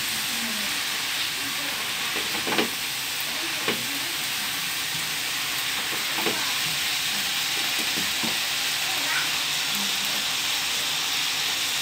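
Bean sprouts and tofu fry in a pan with a steady hiss, broken by the scrape and clatter of a utensil stirring them at close range, with no talk.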